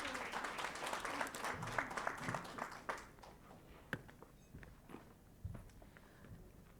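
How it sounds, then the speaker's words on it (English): Conference audience applause for a panel moderator at an event on African women in mining and agriculture, a fairly faint wash of many clapping hands that thins into scattered claps and shuffling after about three seconds. "A round of applause for Prof"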